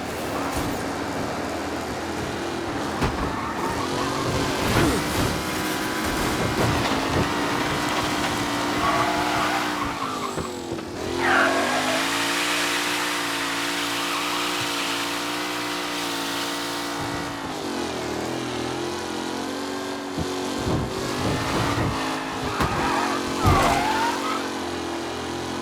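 Race cars roar around a track in the Mafia Definitive Edition game, engines revving and whining continuously with shifting pitch as they pass, with occasional tire screeches and bursts of crowd-like noise throughout, loud and close.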